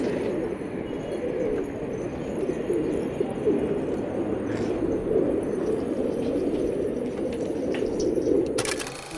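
Desi pigeons coo steadily on an open rooftop near their netted enclosure, a dense, continuous low murmur of many birds close by, with a brief sharp crack near the end.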